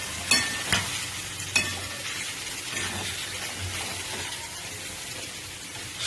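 Chicken pieces with spices stir-fried in oil, a steady crackling sizzle with a few sharp spoon-on-pan clanks near the start, close and continuous with no talking.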